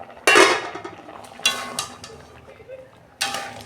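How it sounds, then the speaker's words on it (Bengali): A metal lid lifted off a pot of boiled mung dal, a sharp clatter followed by scraping and clinking of metal cookware, with a couple of further knocks, close and loud. "ঢাকনা খুলছি।"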